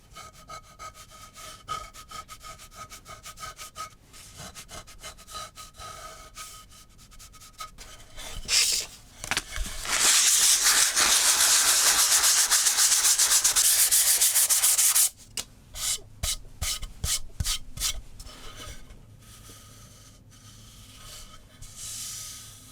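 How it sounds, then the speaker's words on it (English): Rhythmic scratchy rubbing of 240-grit sandpaper on oak by hand, strokes steady then building into a fast, loud continuous burst before slowing to separate strokes. "give them a very light sanding with this 240 grit sandpaper"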